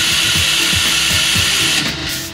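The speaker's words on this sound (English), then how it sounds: "Using this cordless drill and wheel, you can see that there's very limited vibration." A cordless drill spins a wheel fitted with balance rings, giving a loud, continuous motor whine with a faint rhythmic thump underneath, steady until it eases off just before the end.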